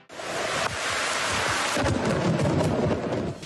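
Thunder from lightning striking close to a fisherman, with heavy rain falling steadily throughout and a loud, continuous rumble that rises and holds near.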